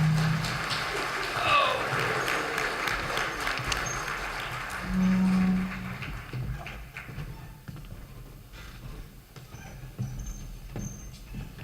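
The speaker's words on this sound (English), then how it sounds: "Let's give them a round of applause for coming." An audience at a 2018 Angelina County candidate forum applauds in a steady, sustained patter of clapping that fills the clip, with voices mixed in.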